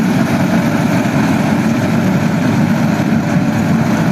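A Fiat 640 tractor from 2010, rigged with a chopper machine, runs at a steady, loud diesel rumble close by, its even throbbing drone unbroken from start to finish.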